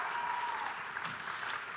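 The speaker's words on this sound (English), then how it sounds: "You can clap anytime you want." Audience applause at a live student glee concert: a dense, steady wash of clapping from a sizable crowd, moderately distant and continuous throughout.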